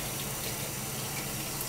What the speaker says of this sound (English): I'm gonna run cold water and give them a nice wash.